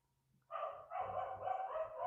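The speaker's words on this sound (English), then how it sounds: "My dog's going crazy. They'll bark at anything." Dogs in a home barking loudly and repeatedly in quick, overlapping bursts close by, starting abruptly after a quiet moment and continuing excitedly to the end.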